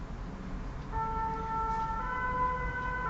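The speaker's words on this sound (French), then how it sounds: "il y a toujours une ambulance qui passe" Ambulance siren sounding from a road near home, squeezed between two national highways; a steady wailing tone rises in after about a second over continuous low traffic rumble and holds loud to the end.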